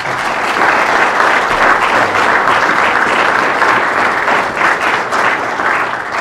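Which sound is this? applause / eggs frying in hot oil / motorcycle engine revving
applause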